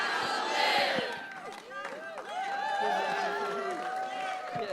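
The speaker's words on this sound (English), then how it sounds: "another round of applause for Nancy." A rally crowd at a hunger strike press conference cheers and whoops loudly, with shouts and yells rising over steady applause and clapping throughout.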